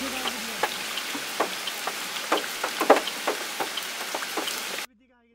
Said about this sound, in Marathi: हां पाऊस आज चालू आहे.